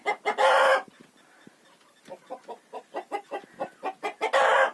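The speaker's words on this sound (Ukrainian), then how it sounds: "Ну і тут всі молоденькі курочки посідали біля нього." Young hens and roosters in a Ukrainian village yard cluck close by in quick rhythmic bursts, with louder squawking calls at the start and the end.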